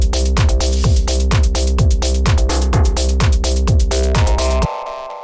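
Driving techno kick drum and bass locked together in a steady four-on-the-floor pulse, about a dozen thumping kicks with a deep rolling bassline, loud and alone, cutting off abruptly near the end.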